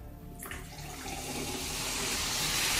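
Citric acid reacts with baking soda in water, giving a steady fizzing, bubbling hiss that swells and grows louder over a few seconds, close up and with no talking.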